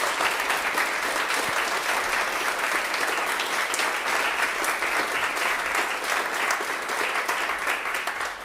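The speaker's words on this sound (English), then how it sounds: "I think we'd all like to show your applause for Carrie." Sustained applause from a concert audience at a summer band concert, a dense steady clatter of many hands lasting the whole stretch without pause.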